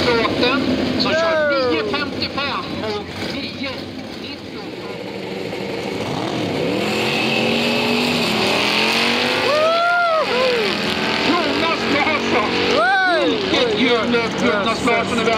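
Drag racing cars roar down the strip at Kjula Dragway, engines sweeping up through rising and falling gear changes at a distance, while an announcer talks over the racing.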